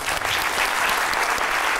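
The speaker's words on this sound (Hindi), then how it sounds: "तालियां।" Studio audience applause on a Pakistani talk show, a steady dense wash of clapping filling the whole short stretch at close, even loudness.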